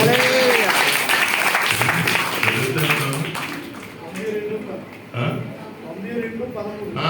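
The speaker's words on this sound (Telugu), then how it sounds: "కొట్టండి, చప్పట్లు కొట్టండి" A church congregation claps together, loud and continuous at first and then fading, with a speaking voice over and after the clapping and a brief renewed burst partway through.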